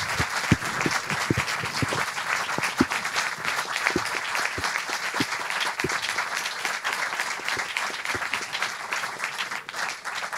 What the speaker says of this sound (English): Let's first give him a huge round of applause.